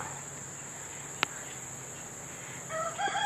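A chicken held down for butchering lets out a short squawk near the end, over a steady high insect-like drone and one sharp click.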